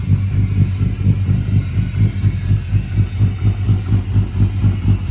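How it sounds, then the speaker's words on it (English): A Chevy S10 with a swapped 6.0 V8 idles with a few exhaust leaks, giving a loud, lumpy, rhythmic low pulsing with no talk over it. "Got a few exhaust leaks."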